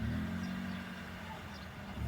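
A car pulls forward at low speed during a driving lesson in Kırıkkale, its engine giving a steady, fairly quiet low hum that swells slightly at the end.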